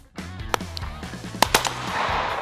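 Browning Maxus II shotgun fired during a hunt in Corsica, a few sharp cracks standing out over an open outdoor background, with rustling and handling noise between shots.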